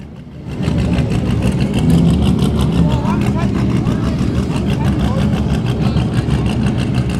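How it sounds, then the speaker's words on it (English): Porsche race car engines idle on the starting grid before a race, a loud, constant mechanical rumble that holds steady from start to finish after a brief quieter opening. "the Strabanti Porsche is still running, engines running over here"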